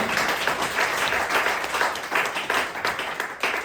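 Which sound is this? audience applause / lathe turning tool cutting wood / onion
audience applause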